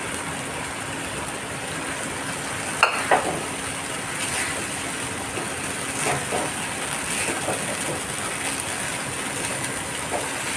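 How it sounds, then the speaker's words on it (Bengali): Raw chana dal being fried and stirred in a pan makes a steady, moderate hiss, with a couple of sharp spatula knocks early on and softer scraping after them. "কাঁচা ডালটা একটু কষিয়ে নেব।"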